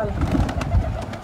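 Pigeons cooing close by at a rooftop loft with a net, giving a few soft, low throaty coos in quick succession under background noise.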